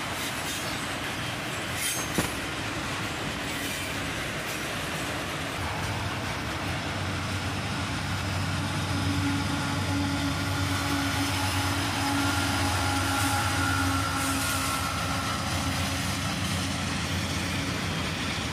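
A CSX freight train passes close by, with a continuous loud rumble of rolling railcars, wheel noise and faint squealing, steady throughout with no voices.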